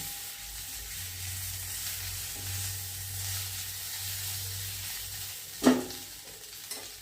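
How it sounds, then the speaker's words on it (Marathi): Chopped rava medu vada pieces dropped into crackling sesame seeds and stirred in a pan, giving a low steady sizzle with a sharp clack of the spoon near the end. "तीळ तडतडायला लागले की ह्याच्यात घालून घ्यायचे हे सगळे तुकडे केलेले, जरा हलवायचे"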